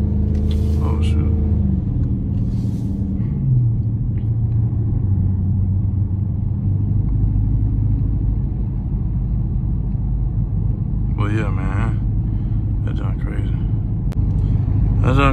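A Dodge Charger 392 Scat Pack pulls hard in second gear, its deep engine roar rising loud and steady throughout, with someone talking over it and brief higher whines near the end.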